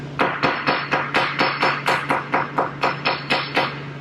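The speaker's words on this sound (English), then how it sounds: "take your hammer and gently tap the concrete around the defect" A hammer taps a garage concrete floor around a defect in a steady rhythm, about fifteen sharp, evenly spaced knocks close by, over a faint low hum.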